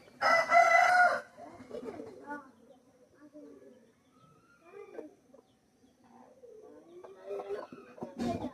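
A rooster of a Chinese breed, kept among chickens for sale, lets out a loud crow at the start, then low talk and faint fowl sounds continue through the rest.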